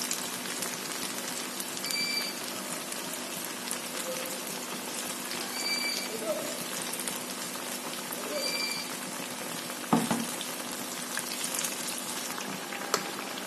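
Banana bajji fritters deep frying in hot cooking oil, a steady dense sizzle and crackle close up throughout, with a brief clatter partway through.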